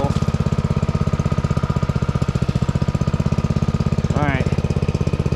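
Red Lion semi trash pump engine idling at a steady, rapid chug, close and loud, with a brief high squeal near the end.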